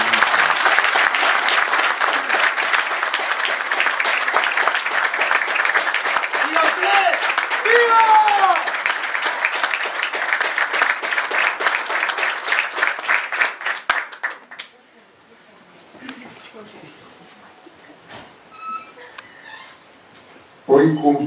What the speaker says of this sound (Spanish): pido para él un aplauso muy grande de todos